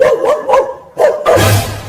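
A cartoon dog barks in a Hindi-Urdu animated moral story, two or three sharp yapping barks with short gaps, followed by a louder, noisier burst with a low hum.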